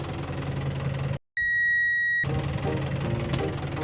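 A New Holland tractor engine idles with a steady low knocking drone, briefly interrupted by a sharp electronic beep tone before the rumbling engine returns.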